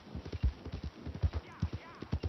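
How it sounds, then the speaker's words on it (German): Horse hooves clip-clop in Red Dead Redemption 2, a steady series of sharp, close thuds in an uneven trotting rhythm, with a faint whinny and a speaking voice over them. "Finally, das ist mein Pferd."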